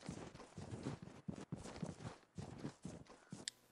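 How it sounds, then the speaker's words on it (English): In the video game Vigor, footsteps sound in a steady, hurried series, each step crunching distinctly at close range, with no talking over them. "If you do hear footsteps"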